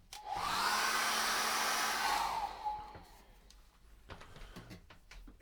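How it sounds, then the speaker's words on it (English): A handheld hairdryer blows steadily over wet acrylic paint on a sunset canvas, a loud, close whoosh lasting about two and a half seconds before cutting off, followed by quieter room noise and a few light taps. "And then I'm going to dry that again with a hairdryer."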